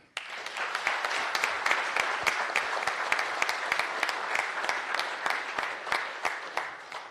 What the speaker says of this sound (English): Let's give them another hand.